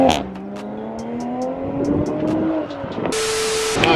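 A 2020 Toyota Supra Mk5 engine revs while being driven off a trailer, a rising close engine tone climbing steadily, then a sharp higher burst near the end, with no speech.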